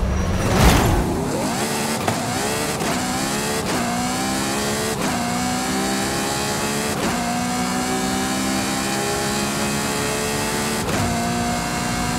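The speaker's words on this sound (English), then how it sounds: "2018 Ferrari 458 Pista" A 2018 Ferrari 458 Pista in the racing game Forza Horizon 5, revving hard: a sharp, loud engine that climbs through several rising sweeps, each broken by quick gear-change cuts, over a steady roar.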